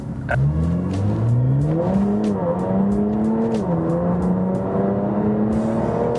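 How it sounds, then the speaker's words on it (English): A 2017 Infiniti Q60S accelerates hard, its exhaust note climbing steadily in pitch through rising revs and gear changes, loud and close for about six seconds with no talking. "Oh my God, I love this exhaust so much."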